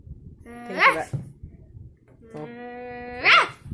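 A voices a dog imitation twice, two short rising barks or yips with bright harmonic sweeps, separated by a pause.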